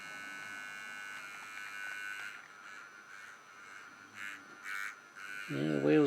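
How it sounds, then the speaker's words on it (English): The motor of a Hornby model locomotive runs with a steady, thin electric whine and buzz, changing pitch partway through. A voice comes in near the end. "the wheels are turning, or the motor is"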